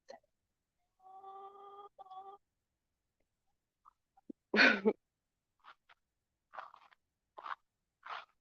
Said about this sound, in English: I hear you, chickens. They think I'm bringing them some treats.